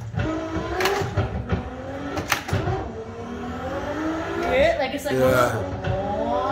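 Engine of a 1600 HP Toyota Supra MKIV in a racing video game, droning and surging with revs that rise and fall under a spoken voice, with brief sharper bursts.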